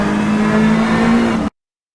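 A rally car engine in Richard Burns Rally held at full throttle, a loud, steady high-pitched drone that runs alone for about a second and a half before cutting off abruptly.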